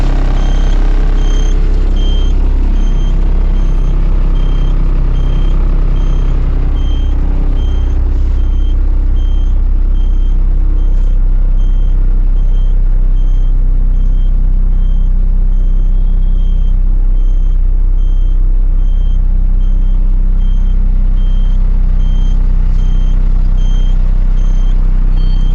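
A 2017 TATA two-door bus with sofa seats idles steadily, its diesel engine a loud, constant low rumble close by, with faint periodic beeping above it and no talk throughout.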